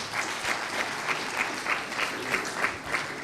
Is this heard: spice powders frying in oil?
no